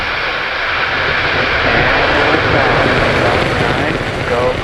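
A SpaceX Falcon rocket ignites and lifts off carrying the Korea 425 mission, a loud continuous broadband roar that holds steady throughout with no pauses.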